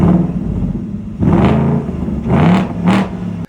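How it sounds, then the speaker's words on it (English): A 2024 Ford Mustang GT Premium with factory quad-tip exhaust idles with a loud, deep rumble, then revs sharply three times in quick succession before cutting off. "this thing is really loud for a factory exhaust."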